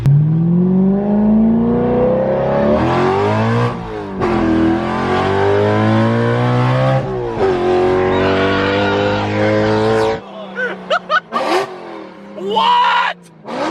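Straight-piped BMW E92 M3 revving hard and loud up close, engine pitch climbing and dropping through several long pulls, then short sharp blips toward the end.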